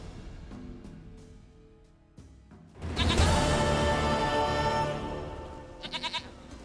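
Goat bleating in The Witcher 3 game, a loud sustained bleat rising after a quieter lead-in, followed by a brief pulsing sound near the end.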